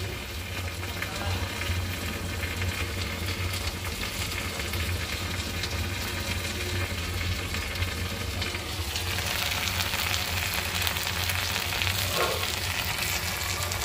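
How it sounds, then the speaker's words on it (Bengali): Okra (bhindi) frying in a pan on a gas stove, a loud, continuous dense sizzle that holds steady throughout, growing a touch brighter toward the end. "আমার ভেন্ডি ভাজি হয়ে যেতেছে, ঢেঁড়স ভাজি কত সুন্দর"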